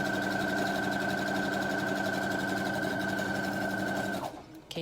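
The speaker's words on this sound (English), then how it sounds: "you just sew straight down" A sewing machine runs a steady straight seam down a fabric tube for a hair scrunchie, a continuous close whirring hum that stops abruptly near the end.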